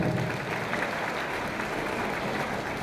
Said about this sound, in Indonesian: Tepuk tangan dulu untuk teman-teman luar biasa.